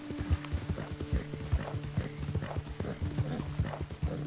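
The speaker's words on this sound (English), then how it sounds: "Name the horse Plinko" Horse hooves clip-clop at a steady trotting rhythm in Red Dead Redemption 2, with a brief whinny among the close, continuous footfalls throughout.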